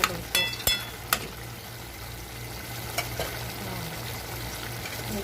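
Beef curry cooks in a pan with a steady, moderate sizzle throughout, broken near the start by a few sharp utensil clinks and a later soft knock, all close by.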